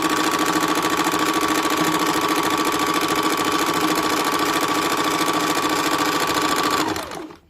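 A sewing machine runs in one continuous, steady whir while stitching a katori cut blouse, holding close and loud for about seven seconds before winding down and stopping.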